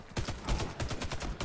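Gunfire in the shooter game Warface, a burst of rapid, heavy automatic shots in quick clusters, loud and close with no talking over it.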